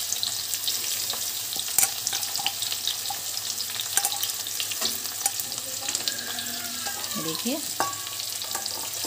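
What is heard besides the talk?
onions frying in a pan for biryani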